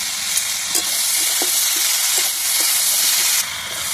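Vegetables fry loudly in a pan with salt, turmeric, sugar and green chillies, a dense, close sizzle broken by repeated light scrapes of a stirring spoon.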